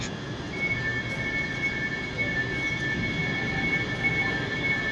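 A train in Scotland rumbles along steadily with a constant low roar and a faint high whine, heard from inside with no talking.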